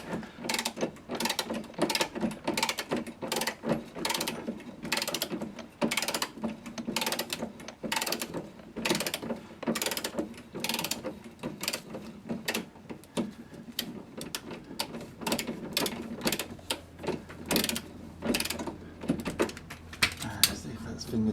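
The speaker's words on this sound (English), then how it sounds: "So let's quickly just spin this last bolt out." Ratchet spinning a bolt out of a Porsche 928 engine cross member, a long run of rapid, close mechanical clicks and ratcheting bursts with brief pauses, with some talking mixed in.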